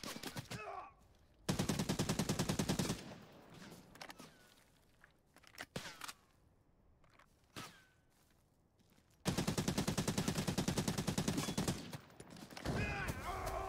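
MP5 submachine gun firing in the video game Arena Breakout: Infinite: two long, loud sustained automatic bursts with a quieter stretch of footsteps and scattered sounds between them.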